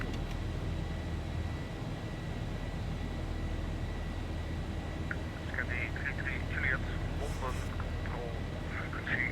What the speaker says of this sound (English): There's the airplane accelerating, flap 1.